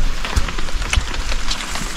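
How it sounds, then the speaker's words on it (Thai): Rain falls steadily as an even, hissing patter with a few heavier drops, outdoors in Sam Tai town, Houaphan province, Laos, with no one speaking. "ฝนตกเลย ฝนตกลินลงเรื่อยทุกคน"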